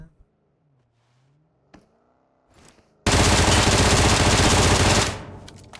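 Gunfire in the mobile battle royale game PUBG Mobile: a sudden loud, continuous burst of automatic fire lasting about two seconds, preceded by quieter game sounds and faint voices.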